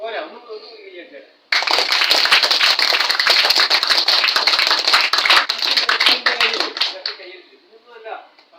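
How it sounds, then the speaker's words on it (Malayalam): Schoolchildren at an Anandashram camp break into loud, rapid group clapping that runs for about five and a half seconds before stopping abruptly, with an adult talking before and after. "ഒന്നും കൈയടിച്ചാണ്."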